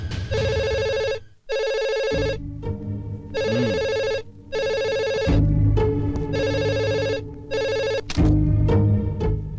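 A telephone bell rings in repeated loud bursts with short pauses between them, in a Telugu film scene set in a police office, with no talking over the rings.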